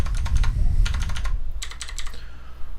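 Rapid key presses on a MacBook keyboard while using Vim navigation keys: quick clusters of light clicks, close and crisp, pausing briefly between bursts, with low background hum and no speech.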